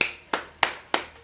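Five slow, evenly spaced hand claps, sharp and close, each about a third of a second apart with short decays and no talking.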